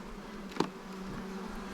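Many honey bees swarm over a honey-filled hive frame, making a faint, continuous droning buzz close by. One brief louder bump breaks in near the start.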